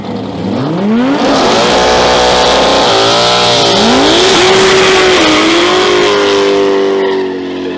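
A mid-engine, four-wheel-drive Volvo 240 race car with a Lamborghini V10 engine screams loudly through rising revs and gear changes, its pitch climbing and holding high, sounding close and sustained with no talk.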